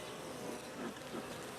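A dense, continuous hum of honey bees swarming around an empty hive feeder, steady and close without pause.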